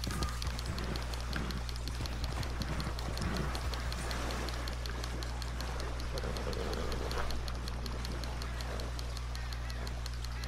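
Rhythmic clip-clop of horse hooves trotting steadily throughout in Red Dead Redemption 2, set against a constant low hum and faint ambient game sounds; voices murmur occasionally beneath.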